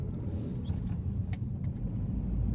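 A Mitsubishi Lancer GT driving in Griffith Park, Los Angeles, heard as a steady low engine and road rumble throughout, with faint passing noises above it and no talk.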